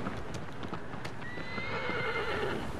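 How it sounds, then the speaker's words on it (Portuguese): A horse in the Shadow of the Colossus video game gives a whinnying neigh after being kicked, preceded by a few faint hoof clops, all set over steady low game ambience. "Eu dei tanto chute no cavalo que ele até relinchou."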